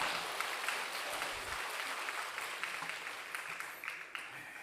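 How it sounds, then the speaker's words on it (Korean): A Sunday church congregation applauds after a prayer, a soft, distant, steady patter of many hands that carries evenly through the whole stretch without any voices. "박수하러 가겠습니다"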